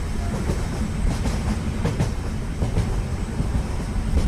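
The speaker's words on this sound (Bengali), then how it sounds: "প্রায় 4 ঘন্টা ট্রেনে জার্নি করবার পরে আমরা পৌঁছে গেলাম বীরভবানীপুর স্টেশনে।" A train rolls along the tracks in a Bengali horror cartoon, giving a loud, steady rumble with rhythmic clickety-clack beats throughout and no talk.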